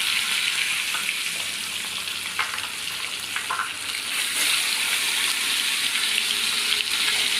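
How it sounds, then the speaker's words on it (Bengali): Fish fried in hot oil in a pan, a broad steady sizzle and crackle that continues throughout with faint clatter, close and moderately loud, with no talking. "এখন একে একে সব মাছগুলো ছেড়ে দিচ্ছি"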